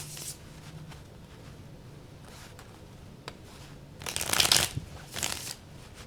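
A Rider tarot card deck is shuffled close up, with soft sliding and tapping at first, then two louder riffling bursts near the end, with no talking.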